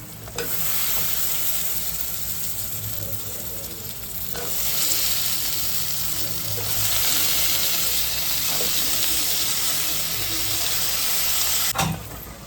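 Ingredients for a hyacinth bean curry fry in hot oil with a continuous close sizzle that swells and settles as they are stirred. A sharp knock comes near the end.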